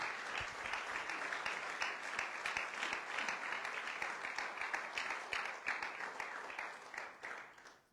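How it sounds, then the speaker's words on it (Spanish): Church congregation applauding during a sermon, a steady crowd of clapping that is heard throughout and tapers off at the end, fairly faint and distant. "Dele un aplauso al Señor."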